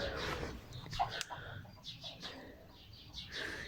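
Chickens squabble over food in a Turkish village yard, with sharp clucks, squawks and bursts of wing flapping scattered across a few seconds, fairly close by and loud.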